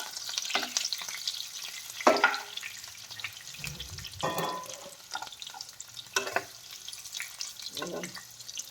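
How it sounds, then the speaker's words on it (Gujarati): Stuffed bitter gourds sautéing in oil for a Gujarati stuffed karela dish, a steady soft sizzle broken by louder bursts of crackle and spatula scraping as the pieces are moved in the pan, close by with almost no talk. "આમાં આપણે આને થોડાક સાતળી લેવાના છે તેલમાં"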